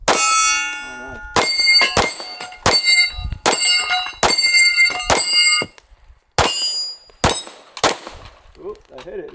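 Pistol shots from a 1911-style handgun ring off a steel target, a series of loud sharp cracks each followed by a bright metallic clang, spaced irregularly with short gaps and a brief pause midway.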